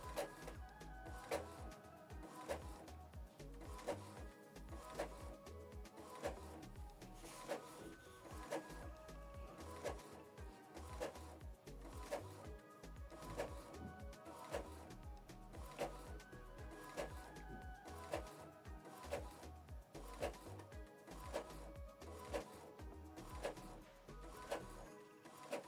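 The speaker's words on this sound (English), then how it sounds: "So the document is printing page 1." An Epson EcoTank L3280 printer prints a page, its faint mechanical whirring and clicking repeating in a regular cycle of feed and carriage passes for the whole stretch.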